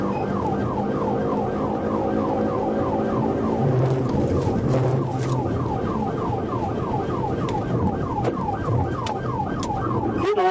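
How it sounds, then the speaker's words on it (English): A police car siren wails loud and close during a high-speed chase, its rising and falling tone repeating steadily over road and engine noise. "I observed the vehicle and activated my emergency lights and sirens."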